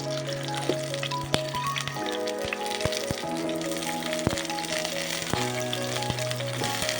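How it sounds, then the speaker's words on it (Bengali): Cauliflower pieces fry in hot mustard oil, giving a steady close sizzle with scattered sharp crackles and pops, with a faint tonal hum underneath and no speech. "ফুলকপিটা ভালো করে ভেজে নিতে হবে"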